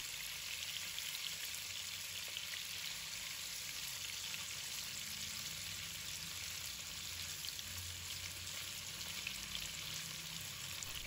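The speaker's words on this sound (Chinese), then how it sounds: "把锅烧热，加入适量的食用油，把豆腐加进来" Tofu fries in hot oil in a wok, making a faint, even hiss that holds steady throughout.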